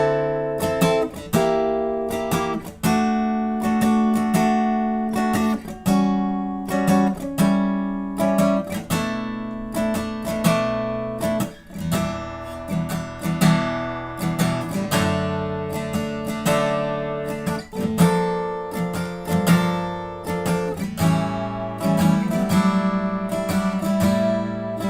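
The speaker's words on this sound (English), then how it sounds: "So altogether, the bridge will sound something like this." Acoustic guitar played close up through the bridge of a song, fingerpicked chords over an open A bass note in a steady, flowing rhythm, clear and alone without any voice.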